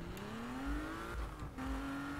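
Car engine in the 2015 Need for Speed video game, a steady droning hum with rising pitch as the car accelerates, heard alone with no talk.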